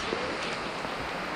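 Heavy rain pouring down on a mountain trail in a gorge, a dense, steady hiss of falling water filling the whole moment, close and unbroken.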